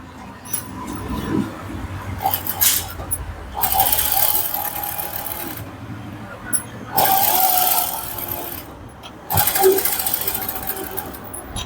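A sewing machine runs edge stitching along netted fabric for a boat neck blouse in three or four bursts of whirring stitching, separated by short pauses with small handling clicks; close and clear.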